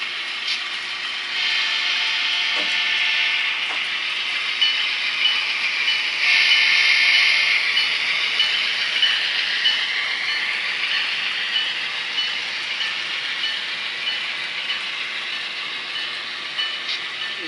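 A train rolls along the main line toward Edmonton Yard, a steady hissing rumble of wheels and rails that holds for the whole stretch with a brief louder swell midway and no voices.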